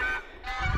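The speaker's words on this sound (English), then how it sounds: "those geese are just so incredibly loud." Geese honking loudly and close by on a ranch, a harsh, raucous burst that dips briefly and then swells again, heard alone.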